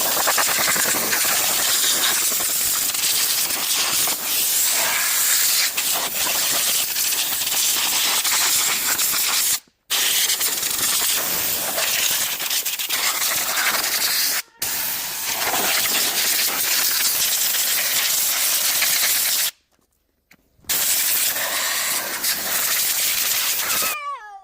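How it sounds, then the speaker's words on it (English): An air blower blasts a freshly washed dirt bike, loud continuous hissing jets of air in long bursts broken by a few brief pauses, close up, with no speech. "You want to blow the whole thing off, and like really your bolts, your calipers"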